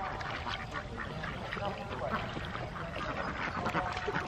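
A flock of ducks quacks continuously nearby at a waterside spot where a fishing net is being cast, the calls mixed with background voices.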